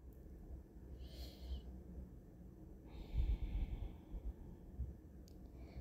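Slow breaths during a seated forward bend yoga pose, audible as soft airy exhales and a louder nasal rush near the middle, close and quiet with no talking.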